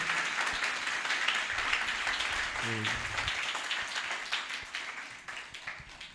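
A church congregation applauds their pastor, a sustained wash of clapping from many hands filling the room, gradually thinning toward the end, with a voice briefly heard over it.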